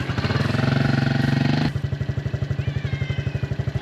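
A motorcycle engine runs loud and close, revving hard at first, then dropping to a steady, rapid idle-like chugging with evenly spaced pulses, no talk over it.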